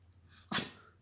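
A dog sneezes once on command, a single sharp, close burst of air over a low background hum.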